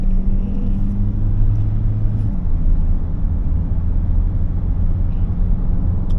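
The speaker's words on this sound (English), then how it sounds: "That's where then you get that grunt from the diesel that's coming in." A 2025 Ford Tourneo Custom with a 2.0-litre diesel pulls under acceleration, giving a steady low rumble from inside the cabin. A droning engine tone shifts pitch partway through, with no talking over it.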